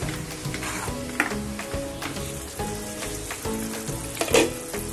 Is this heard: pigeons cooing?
no